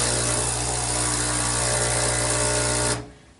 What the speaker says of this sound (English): that just means that the pump is working. It's pumping water